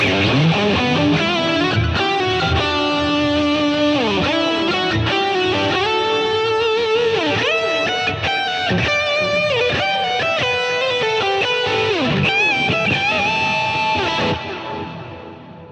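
A distorted electric guitar plays a fast, bending lead solo through heavy effects pedals, loud and continuous with no other voices, from a song cover.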